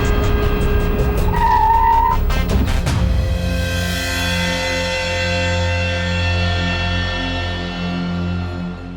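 Tires squeal sharply in a loud skid, then a car engine roars and drones on as the vehicle pulls away.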